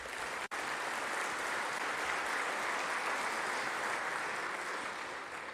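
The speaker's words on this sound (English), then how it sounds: "so if you could give them a round of applause, would be great" Audience at a Veterans Day breakfast applauding the volunteer drivers, a thick, steady wash of clapping from a large room, sustained throughout and slowly tapering, with no talking.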